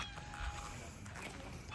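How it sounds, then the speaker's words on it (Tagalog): A cat meows on an island beach after a boat landing, a brief call heard over steady outdoor background noise. "Ayun na, may pusa agad daw."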